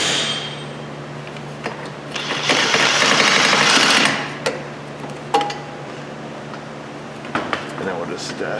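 Rear wheel bearing work on a Subaru Outback gives a loud burst of mechanical whirring as bolts are backed out, most likely from a power tool, followed by scattered clinks and knocks, with someone talking over it.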